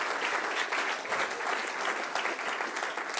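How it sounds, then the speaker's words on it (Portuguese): A church congregation applauds steadily after a call to praise the Lord Jesus, a dense, even wash of many hands clapping at moderate volume throughout, with no one speaking over it. "dê um aplauso forte para o Senhor Jesus"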